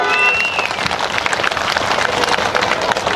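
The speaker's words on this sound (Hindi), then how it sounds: "जोरदार ताली बजाकर सम्मानित करें" Dense, steady crowd applause fills a women's rally at a Jharkhand election gathering, loud and continuous, with a brief whistle-like tone near the start.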